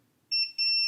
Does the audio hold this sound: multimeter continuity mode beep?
yes